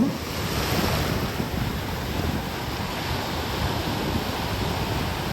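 Sea waves wash steadily onto a beach at Narsapur, a continuous broad roar of surf with wind buffeting the microphone and no voices.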